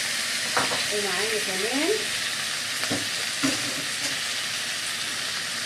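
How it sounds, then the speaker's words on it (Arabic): Washed rice tips into a pot of fried vermicelli for Egyptian koshari, setting off a steady broad sizzle with stirring scrapes and a few knocks, while someone speaks briefly. "الشعريه اتحمرت قدامكم كده. هنزل بالرز. معايا كوبايه من الرز مغسول"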